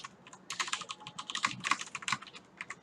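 Fingers typing code on a computer keyboard, a quick irregular run of close, crisp key clicks with brief pauses between bursts, alone with no talking.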